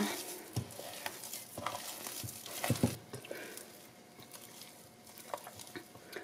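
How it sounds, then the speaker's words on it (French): Dough worked by hand until smooth: soft, irregular squelching and slapping pats, close and quiet, with sticky pulls and brief louder presses. "Bien malaxer la pâte afin de la rendre la plus homogène possible."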